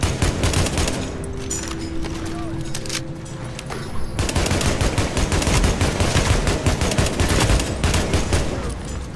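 Sustained gunfire from a firefight against enemies in The Division, dense overlapping bursts and rattling automatic shots running throughout, growing heavier in the second half, with a voice talking faintly underneath.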